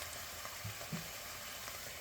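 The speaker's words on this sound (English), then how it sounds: "Alright, let's let that simmer" Beer bratwurst sizzles and fries in a non-stick pan, a steady, fairly quiet crackle with no talk over it.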